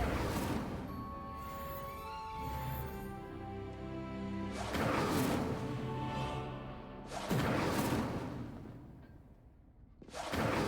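Incendio fire spell cast in Hogwarts Legacy, loud bursts of whooshing flame that arrive in three distinct surges over a sustained tonal musical bed, each flaring and then fading.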